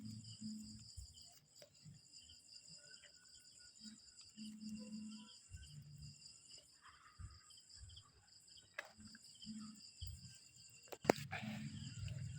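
A black cricket chirps in steady, high pulsing trills that carry through the whole stretch, with faint rustles and a few soft knocks and a sharp tap near the end, close by and otherwise quiet.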